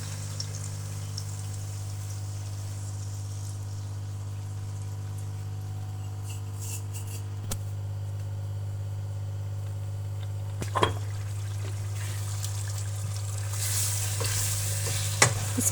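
Semolina cooks in oil and milk for a traditional halwa while being stirred, giving a soft, steady sizzle with occasional scraping clinks. A constant low hum runs underneath throughout.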